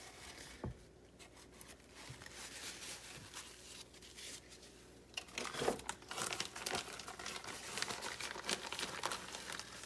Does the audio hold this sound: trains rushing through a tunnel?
no